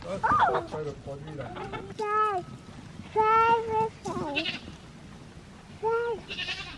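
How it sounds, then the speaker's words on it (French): Goats bleating on a farm, a series of close, wavering bleats repeating every second or two, with people talking faintly in the background. "Chèvre."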